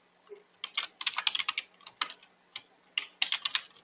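Keys on a computer keyboard clatter close by as an email address is typed in, the clicks coming in quick irregular bursts separated by short pauses.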